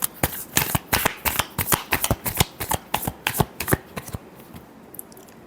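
A deck of tarot cards gets shuffled close up: a rapid series of sharp riffling flaps, loud and rhythmic, fading toward the end with no one talking.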